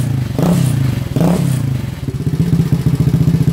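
A YCF 125 pit bike with a baffle fitted in its exhaust, revved twice in close, loud bursts and then settling into a rapid, even, throaty idle putter.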